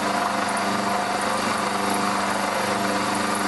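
A mini lathe cuts metal with a carbide cutter, giving a steady continuous motor hum and machining drone with a faint high whine, close and unbroken.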